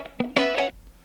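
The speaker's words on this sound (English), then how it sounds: "right, a little bit of chugging, a little bit of chords there." Distorted electric guitar sample from an intro part of a produced track, with short palm-muted chugs followed by a sustained ringing chord, loud and close, no voices.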